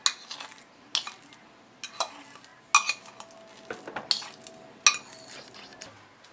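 Mashed banana scraped and stirred into a bowl with a utensil, giving repeated short clinks and scrapes of metal against the bowl at an irregular rhythm, close by and fairly quiet, with no talk.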